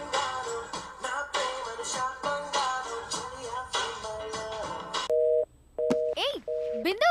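After a stretch of talking, a phone line gives repeated steady electronic tones with short gaps, sounding after a number is dialed, clear and close.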